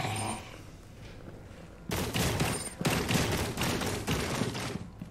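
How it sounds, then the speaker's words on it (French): Rapid gunfire in the video game Rainbow Six Extraction: after a brief quieter lead-in, dense bursts of shots erupt and continue loudly in clustered volleys for several seconds, with no talking. "Il y a l'autre qui me tire dessus."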